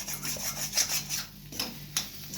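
A spatula keeps turning and scraping an egg and rice mixture frying in a pan until golden. Rhythmic rubbing strokes repeat every half second or so over a faint sizzle, close and moderately quiet, with no voices.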